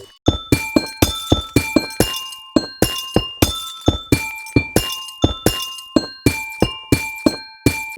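A run of bright, glassy clinking taps with ringing tones, evenly spaced at a brisk walking pace, close and fairly loud, with no voices: calcite blocks being walked on in a video game.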